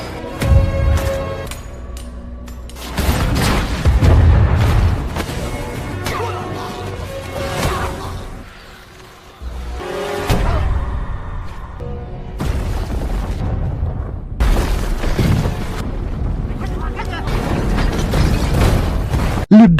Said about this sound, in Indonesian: Ledakan besar mengguncang dan meruntuhkan makam.